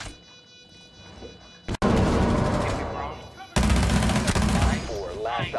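Bursts of rapid gunfire in a tactical shooter game break in loudly after a quiet stretch, in two dense volleys with a sharp crack between them and a voice talking under the shooting.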